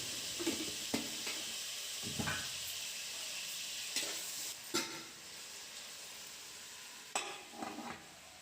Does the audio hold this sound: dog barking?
no